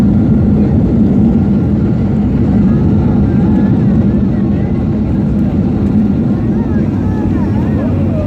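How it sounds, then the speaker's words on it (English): A Delta airliner landing gives a loud, steady low engine roar and rumble that holds at the same level throughout, with no voices over it. "I'll just throw in a scene of the plane landing for dramatic effect."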